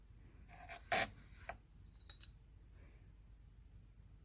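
A blade trims the side of a polymer clay pendant, giving a few soft scraping and rasping strokes with one brief louder cut, close and quiet.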